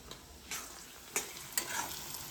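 Spices are stirred into homemade garlic pickle with a spoon, giving a few quick, close scraping strokes spaced irregularly over a soft background.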